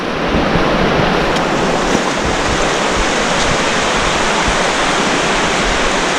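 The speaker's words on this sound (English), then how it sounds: "Water is just cutting into the canyon." Virgin River water rushing through a narrow slot canyon in Zion Narrows, a loud, steady broadband roar close by with no talking.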